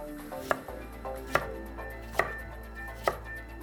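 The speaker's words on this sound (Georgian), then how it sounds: "სანამ ზეთი ცხელდება, ხახვს დავჭრი." A knife cuts an onion into large pieces on a board for pork fried noodles, with four evenly spaced, crisp chops and no talking.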